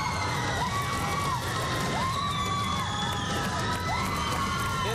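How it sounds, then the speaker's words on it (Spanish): A concert audience gives a musical duo a loud, sustained ovation of cheering, whoops and shouts over clapping, with the noise staying dense and constant throughout. "Ese aplauso para ustedes."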